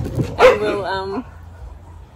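A dog at a house gives a single short bark followed by a whining, whimpering tail, and a person says a few words just before it.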